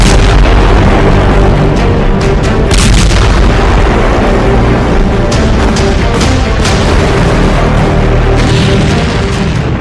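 Loud, continuous rumbling roar of a massive explosion in Beirut, with repeated deep booms and crackling bursts throughout.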